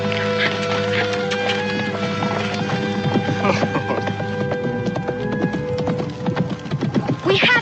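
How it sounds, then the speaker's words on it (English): Horse hooves clop in a quick, uneven rhythm while people talk over them, with a low steady hum in the background. "you can let me have this man's horse to go after Legault"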